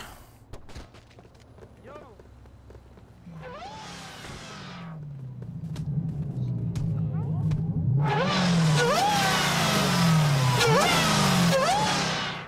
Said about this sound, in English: What the fuck kind of engine is that?